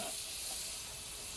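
Steak sears on a grill with a steady, even sizzle and hiss filling the whole stretch, fairly quiet and continuous, with one tiny crackle pop near the end and no voices.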